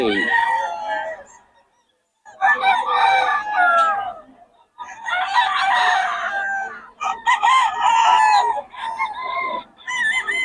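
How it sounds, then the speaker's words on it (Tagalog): Roosters crow loudly and repeatedly, with chickens clucking between the calls and a short quiet gap near the start. "Maganda ng mga manok ng Boss Batang, mga idol"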